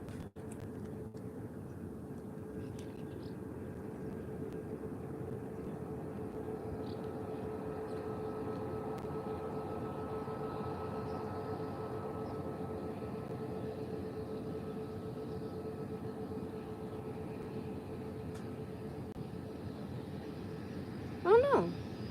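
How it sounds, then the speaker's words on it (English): An Airbus A321neo at Málaga airport produces a continuous, steady engine roar with a sustained whine that holds at an even level for about twenty seconds. A brief louder burst of sound comes near the end. "So you can hear, I think, an A321neo."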